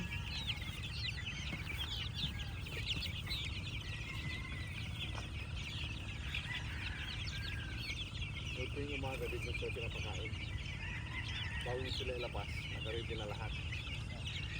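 Gamefowl chickens cluck and call at a feeding area, a steady chorus of bird calls over constant low outdoor rumble, with a few sharper cluck bursts near the end; a person talks intermittently.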